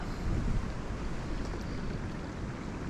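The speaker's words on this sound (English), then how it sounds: "I guess this wind is pretty much a constant here at Dochfour" Steady wind buffeting at a riverside salmon fishing beat at Dochfour, a continuous broadband roar with low rumbling gusts, close and constant, with no voices.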